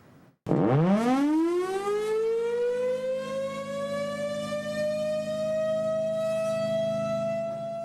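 A civil defense siren in Evanston, sounded after the Cubs' World Series win, winds up sharply from low to high pitch, then holds a loud, steady wail for several seconds.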